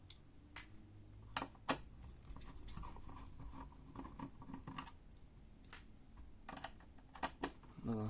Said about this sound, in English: Unscrew the 4 screws which hold the plastic bracket